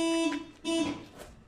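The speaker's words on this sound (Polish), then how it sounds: "wyciągłem kluczyk z tego i od razu się alarm włączył" Alarm on a Volkswagen Passat B5 FL sounding just after the key was pulled, two short tonal beeps in quick succession, fairly close and alone.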